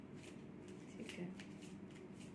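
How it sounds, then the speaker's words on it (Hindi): Tarot cards are shuffled in quick, soft riffling bursts, faint and close, with someone speaking quietly over them. "मैं जितना भी शफलिंग कर रही हूँ"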